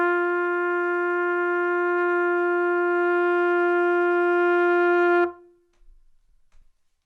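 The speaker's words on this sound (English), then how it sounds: "the first note on the trumpet is G" A trumpet holds a single steady open G, played with no valves pressed, for about five seconds and then cuts off abruptly. Faint handling noise follows. The tone is clear and close, with no talk.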